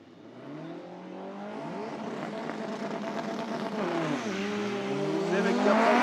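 Two Honda cars, an Insight and a Civic, drag racing at Toronto Motorsports Park, their engines rising in pitch through the gears and growing steadily louder as they accelerate, with faint talk underneath.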